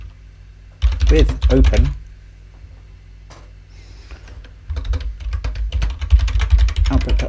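Computer keyboard typing in two bursts of rapid, close key clicks, separated by a quieter pause, with someone speaking briefly between them.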